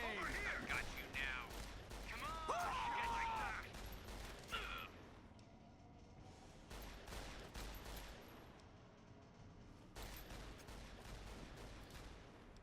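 Repeated gunshots from 12.7 pistols in the video game Fallout: New Vegas, firing in spaced groups of sharp cracks with a pause midway, while a player's voice runs beneath the early shots.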